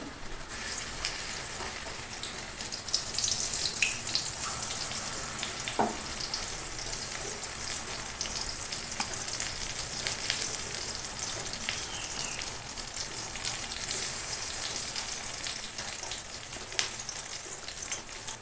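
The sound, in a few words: pumpkin flower fritters frying in oil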